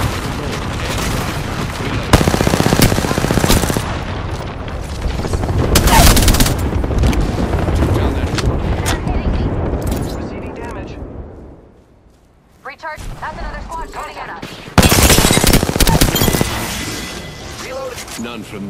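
Heavy, sustained gunfire from smart bullets in the game Apex Legends, loud dense bursts with booms that drop into a brief lull before another intense volley, with game voice lines mixed in.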